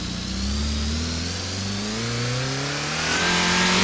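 A synthesized video game car engine revs up steadily, its pitch climbing smoothly from a low idle as the car accelerates, continuous and fairly loud with no talk.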